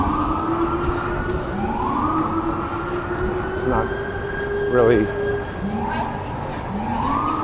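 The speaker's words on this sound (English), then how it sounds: "People in New York kind of ignore sirens." Emergency vehicle sirens on a New York street, a wailing tone repeatedly sweeping up and down, loud and fairly close over city traffic noise, with a person briefly speaking during it.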